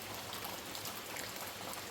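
Rain falls steadily on a rainy day, an even, faint patter of drops hitting surfaces with no pauses and no voices.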